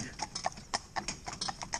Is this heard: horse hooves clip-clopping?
yes